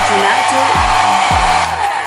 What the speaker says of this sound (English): I'm going to put it my little blow dryer on low setting. I'm going to keep it on cool.